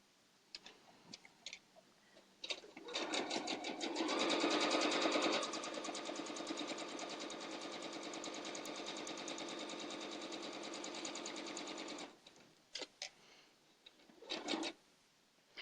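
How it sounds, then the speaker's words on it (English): A sewing machine stitches a disappearing nine patch quilt block, a few short starts followed by a steady rapid mechanical run of about ten seconds that stops abruptly, then brief bursts of stitching and clicks. "now I'm going to go ahead and sew the other one"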